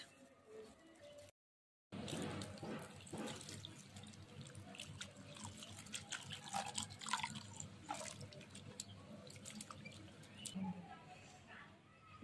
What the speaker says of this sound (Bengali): পরিষ্কার করে ভালো করে ধুয়ে নিছি।